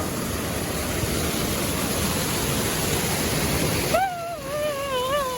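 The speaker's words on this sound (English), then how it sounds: "Wear waterproof shoes when you do the Cascades, because there's a waterfall." A waterfall on a trail at the Cascades gives a steady, close rushing roar that cuts off abruptly near the end, followed by a wavering, whistle-like tone.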